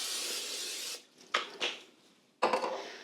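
A casserole dish gets a coating of cooking spray in a home kitchen: a steady broadband hiss for about a second, then a few short spritzes and a longer burst, close and fairly quiet.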